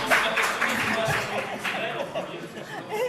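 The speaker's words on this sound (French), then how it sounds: "Vous pouvez l'applaudir." An audience at a conference session applauds: steady clapping mixed with chatter and a few chuckles from the crowd, filling the room without a break.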